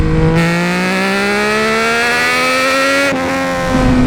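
A Triumph Daytona 675 motorcycle engine, with its exhaust valve opened past 6000 rpm, revs loud and near as one sustained rising howl. It drops briefly on a shift and then climbs again.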